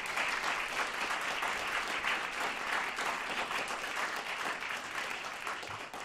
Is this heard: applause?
yes